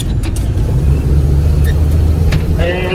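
Engine of a 1961 Ford revving and dropping as the clutch is worked, a loud steady low rumble with rising and falling pitch, and a few sharp mechanical clicks near the end.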